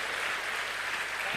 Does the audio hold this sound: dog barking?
no